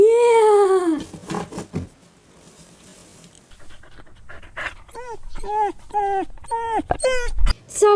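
A dog during trick training whimpers and pants, with high whining calls early and a rapid string of short whines later, mixed with breathy panting and some handling noise.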